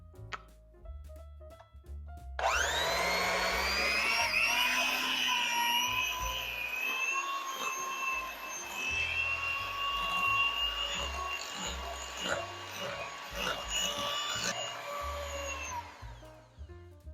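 An electric mixer starts up and whirs continuously through crustless cheesecake batter, loud, close and steady for many seconds after a brief quiet start.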